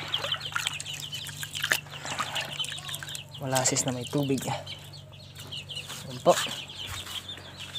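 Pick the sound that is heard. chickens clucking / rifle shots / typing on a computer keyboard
chickens clucking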